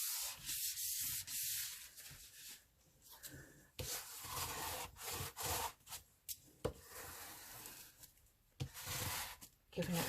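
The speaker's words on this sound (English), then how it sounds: "Giving it a good burnish" Paper folds of an envelope folio are burnished with firm rubbing strokes, a dry scraping swish repeating in uneven bursts close up, with a voice talking over parts of it.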